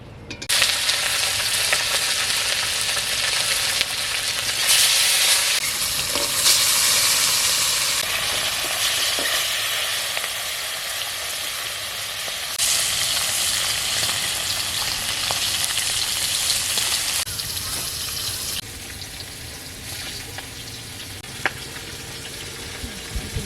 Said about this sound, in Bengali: কড়াতে এবার তেল দিয়েছি এবার মাছগুলো ভাজবো মাছগুলো ভেজে নিচ্ছি